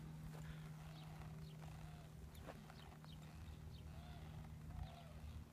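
A horse walking on the ground during groundwork and riding training, giving soft, irregular hoof steps over a steady low background hum, fairly faint and moderately distant, with no talking.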